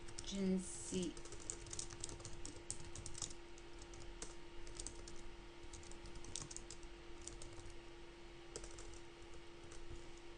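Text being typed on a computer keyboard, a quiet run of steady key clicks over a faint electrical hum, with a brief voice near the start.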